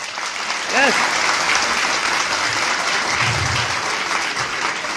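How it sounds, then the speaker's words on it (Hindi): Loud, dense clapping from a school audience at a government inter college event in Someshwar, a continuous full wash of applause lasting the whole stretch, with a brief voice surfacing early on. "जोर से ताली बजाइए।"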